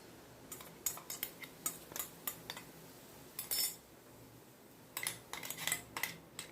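Corn flour is stirred into boiling water in a metal kadai, with faint, irregular scraping clinks of a spoon against the pan in quiet surroundings.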